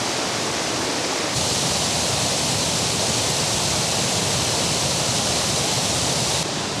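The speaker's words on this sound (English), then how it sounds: "there's something about a mountain stream, that sound" A mountain stream in the Pocono Mountains rushes steadily over rocks in autumn, a close, continuous broadband wash of flowing water with no breaks and no voices.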